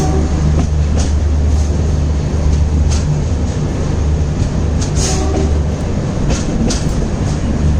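Madgaon LTT double decker express running on a loop line during an overtake, heard as a steady loud rumble of wheels and carriages with faint rhythmic clatter throughout, no voices.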